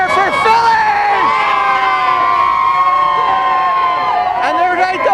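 Large crowd cheering and shouting at the 2008 Phillies championship parade, a dense, loud roar with whistles and high children's shouts, a siren-like wail rising and falling through it, voices calling out nearby.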